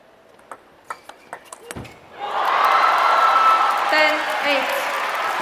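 Table tennis at the Singapore Smash 2022 final between Ma Long and Fan Zhendong: a quick rally of ball pings, then the crowd bursts into sustained loud applause and cheering.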